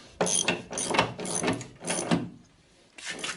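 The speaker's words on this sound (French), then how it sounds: "je serre bien ces boulons-là" Ratcheting wrench tightening bolts on a car's front subframe during front suspension bushing repair, in several bursts of rapid clicking with brief pauses between, close and fairly loud, no talk.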